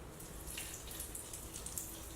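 Liquid poured over vegetables in a jar for fermenting gives a faint, steady splashing trickle with small bright droplet sounds, quiet and continuous throughout.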